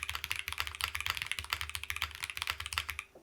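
Fast, steady typing on a Photon wireless mechanical keyboard fitted with Kinetic Labs capybara switches and a single foam layer, close and crisp with dense overlapping keystrokes, no talking.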